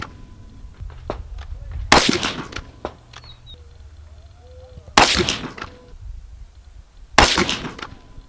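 A 6.5 Creedmoor rifle firing Hornady or Federal ammunition at an outdoor range lets off three sharp, loud shots a few seconds apart, each with a short ringing tail. Quiet shuffling and faint handling noises fill the gaps.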